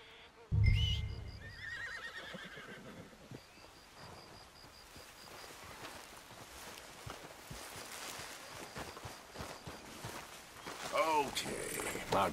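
A horse whinnies sharply near the start in Red Dead Redemption 2, then rain and rumbling storm ambience fill the scene, with a voice speaking over it.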